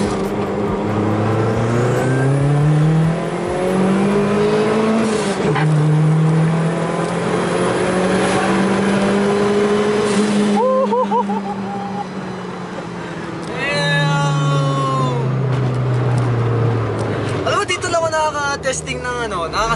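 A JDM car's engine revving hard through a second-gear pull, a loud, sustained rising drone that holds steady and then shifts pitch as the revs change, heard from inside the car with voices talking over it.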